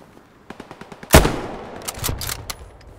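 Gunfire in the video game Hell Let Loose: a rapid string of light shots followed by a loud, booming blast that rolls away, then scattered bursts of firing nearby, with no talking.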